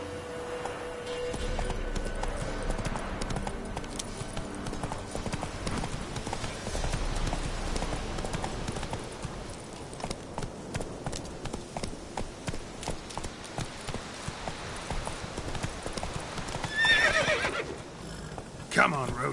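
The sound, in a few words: horse Roach galloping and neighing in a video game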